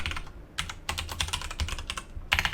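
Fast, uneven typing on a computer keyboard, close clicking keystrokes in quick bursts with brief gaps.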